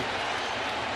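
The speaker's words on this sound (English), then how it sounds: "Crowd reacts." Baseball stadium crowd at a Yankees home game reacting as a replay plays on the center field scoreboard, a dense, steady roar of many voices with scattered clapping, loud and sustained without a break.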